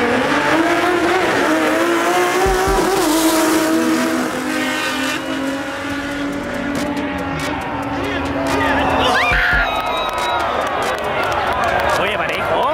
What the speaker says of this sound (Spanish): Acaba de llegar acá un Falcon que se va a presentar acá en la pista.